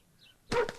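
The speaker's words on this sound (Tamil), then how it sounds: "நாய் உள்ளதா இருக்கு" A single short dog bark, sharp and fairly close, rings out after a near-silent pause, with a faint second yip right behind it.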